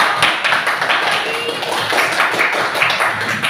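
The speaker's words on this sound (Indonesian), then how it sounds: "Ibu mau kalian berikan tepuk tangan dulu untuk hasil kerja" A classroom of eighth-grade junior high students applauds together, a dense, steady wash of many hands clapping at once that stays loud and even throughout.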